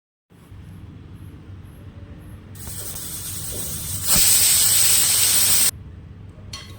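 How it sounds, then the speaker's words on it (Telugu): A pressure cooker with drumstick soup inside hisses steadily, the steam growing louder in stages into a loud, bright rushing blast before cutting back to a quieter hiss. "మనం ప్రెషర్ కుక్కర్ ఆన్ చేసుకుందాం"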